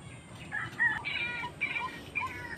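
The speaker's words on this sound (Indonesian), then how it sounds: "sudah mendengar burungnya wak-wak ya" A white-breasted waterhen calls outdoors at moderate distance, a series of about five short, hoarse, rising notes repeated in a loose rhythm over faint background noise.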